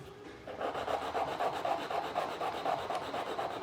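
Close, steady rasping of an electric nail drill filing down dip-powder manicured nails, with a quick rhythmic scratching pulse and no voices.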